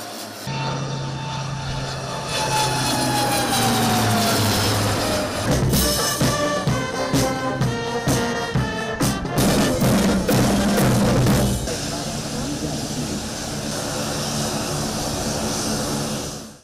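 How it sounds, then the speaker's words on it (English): A Dornier 228 maritime surveillance propeller aircraft runs loud and steady at close range, a continuous droning engine roar with pulsing, rhythmic surges in the middle before settling back to an even hum. "inspected the Dornier maritime surveillance aircraft after it was officially handed over to Sri Lanka"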